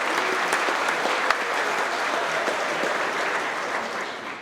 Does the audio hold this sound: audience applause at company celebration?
yes